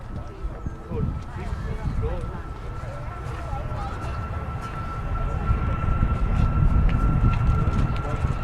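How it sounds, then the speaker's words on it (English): A TUI Boeing 737 MAX 8 jet roars at an airport, its steady engine rumble building louder toward the end, with people talking over it throughout. "737 MAX 8."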